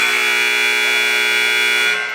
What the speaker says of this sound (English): Apologies for the loud buzzer.